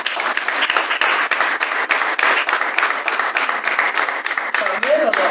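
A church congregation claps in a steady, rhythmic beat, loud and sustained, with a voice speaking briefly near the end.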